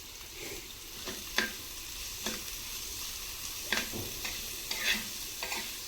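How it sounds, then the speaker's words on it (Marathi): Onion sautéing in oil and turning reddish for a Maharashtrian village-style bitter gourd curry, with a steady close sizzle and a handful of sharp spatula scrapes against the pan spread across the clip. "हा कांदा नाही का असा परतून घ्यायचा असा लालसर होत आहे"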